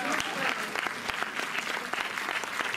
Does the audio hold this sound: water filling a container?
no